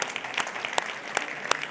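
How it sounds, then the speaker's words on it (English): Scattered hand clapping from an audience at an institutional research and innovation event, thin and intermittent with a few sharper claps standing out over a quiet room. "And maybe a little applause for the entire team."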